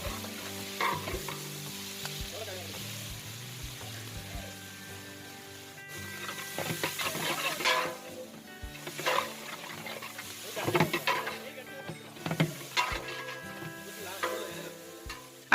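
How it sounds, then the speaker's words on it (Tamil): Onions sautéing in oil with cinnamon, cloves, cardamom and bay leaf for a large batch of biryani, a soft steady sizzle broken by repeated scraping stirs and clatters of a spoon against the pot, close and moderately quiet. "பட்டை, கிராம்பு, ஏலக்காய், பிரியாணி இலை இது எல்லாத்தையுமே எண்ணெயில் வதக்கிட்டு கட் பண்ணி வச்சுருக்க வெங்காயத்தையும் சேர்த்து நல்லா வதக்கிடுறாங்க."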